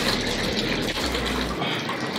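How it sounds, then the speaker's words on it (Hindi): A water tap runs during an indoor bath for a Rottweiler, giving a loud, steady rushing gush with a deep rumble that drops away partway through. "नल बह रहा है, पानी बंद करो"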